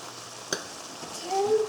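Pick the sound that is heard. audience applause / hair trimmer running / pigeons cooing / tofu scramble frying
tofu scramble frying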